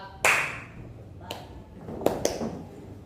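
Scattered hand claps in a classroom counting game, a sharp clap followed by a few more spaced irregularly over three seconds, close and fairly quiet with faint background voices.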